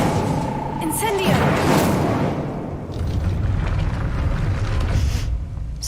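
A fire spell cast in a video game roars out as a sustained broadband whoosh and rumble, swelling around the middle and trailing into crackling background noise, with speech-like sounds mixed in.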